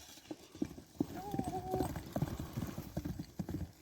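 A single horse's hooves clip-clop in a quick, steady rhythm on hard ground as it runs nearby. A brief neigh rises partway through, and faint voices sit in the background.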